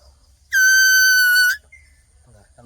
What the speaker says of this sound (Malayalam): ഈ അറ്റത്ത് ഊതിക്കഴിഞ്ഞല്ലേ വിസിൽ പോലെ കേൾക്കും